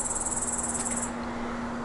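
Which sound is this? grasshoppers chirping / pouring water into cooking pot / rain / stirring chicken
grasshoppers chirping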